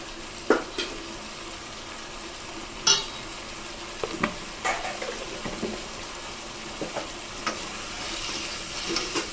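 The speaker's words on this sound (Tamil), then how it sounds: "இப்போ இதை நல்லா சேர்த்து வதக்கிக்கலாம்" Brinjal with soaked tamarind being sautéed in a pan, with a steady sizzling hiss broken by occasional spatula scrapes and taps, close by.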